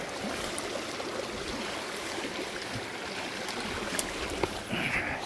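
A village river that holds trout flows with a gentle, continuous rush and trickle, fairly faint and steady throughout, with no voices over it.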